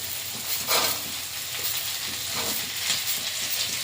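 Soft, steady frying sizzle of potatoes and jackfruit seeds in a pan, with occasional faint stirring scrapes; no voices.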